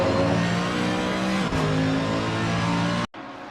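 Front-engine V8 race cars in a racing game, a loud close engine roar holding a steady high revving pitch, a brief dip mid-way, then cutting off abruptly to a quieter engine tone.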